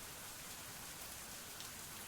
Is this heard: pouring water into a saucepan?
no